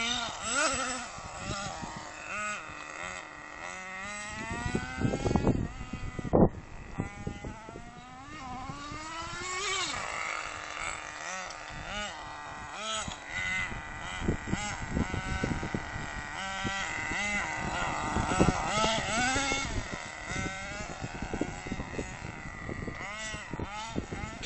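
A Redcat 1/10 scale nitro RC car with a size 18 engine runs continuously, giving a high, buzzing, wavering whine that rises and falls in pitch, loud and close throughout.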